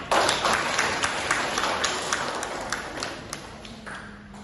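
A classroom group of students applauds together, a dense patter of many hands clapping that starts loud and slowly tapers over a few seconds.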